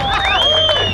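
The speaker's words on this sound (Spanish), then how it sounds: "vamos a dar el aplauso para" Crowd at a truck show in Tijuana cheering with high shouts and whoops over steady applause, loud and sustained for a brief moment.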